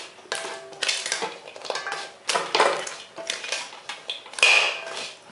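Rice and jaggery are stirred in a pot with a metal utensil, giving repeated scraping and clinking bursts close by, with no voices.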